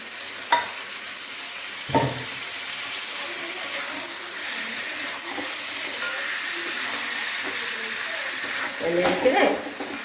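Chicken is added to a sizzling butter masala spice paste, giving a steady hiss of frying with a few sharp clunks of meat and utensil against the pan and a louder stirring burst near the end.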